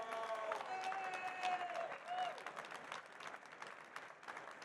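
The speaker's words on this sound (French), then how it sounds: "les groupies sont dans la salle avec les applaudissements nourris" Applause from the audience at a swimming pool industry press conference at a trade show, a modest patter of clapping that rises then thins out, with a voice speaking over part of it.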